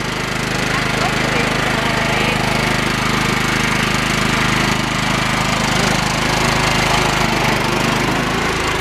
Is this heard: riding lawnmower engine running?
yes